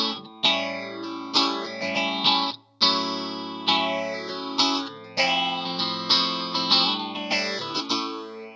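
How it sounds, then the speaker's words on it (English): A PRS electric guitar in the middle pickup position, using two single coils, plays strummed chords that ring out with a swirling chorus-like modulation. Several chords are struck in turn, each sustaining and decaying before the next. "If I want to go in the middle, two single coils."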